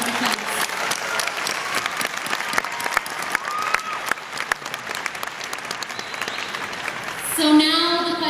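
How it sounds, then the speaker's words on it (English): A graduation audience applauds, sustained crowd clapping with a few crisp nearby claps and light cheering, voices surfacing near the end as the clapping carries on. "give them a round of applause"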